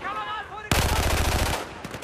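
Automatic gunfire in Battlefield 4 (PS3, Conquest on Operation Outbreak) erupts as one loud rapid burst of about a dozen shots after a quieter lead-in with faint voices. A few scattered shots follow.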